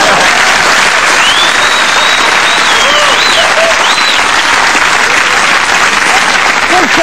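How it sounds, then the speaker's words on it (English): Loud, sustained audience applause during a comedy routine about lost airline baggage, a thick continuous roar of clapping with a few cries or whistles rising above it. "You're clapping her, I know what you're doing."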